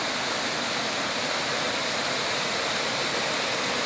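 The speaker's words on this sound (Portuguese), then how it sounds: "E a cachoeira, então, logicamente, está ali, nessa cabeceira aqui" A waterfall roars steadily and loudly, a dense continuous rush of falling water with no voices.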